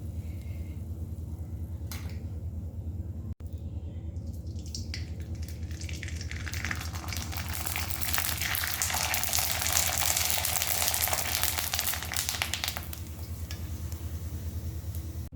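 Sago papad frying in hot oil in a pan over a flame turned down from full, with a steady crackling sizzle that swells louder midway and then eases off, no talking.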